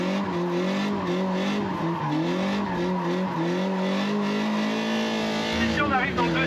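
A car spinning a donut in a gymkhana course, tires squealing continuously with a loud steady engine drone and shifting pitch, a voice talking over it near the end.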